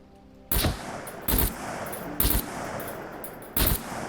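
Gunfire in the survival video game SCUM, aimed at equipment boxes: four loud, sharp shot bursts at uneven intervals over a steady game background.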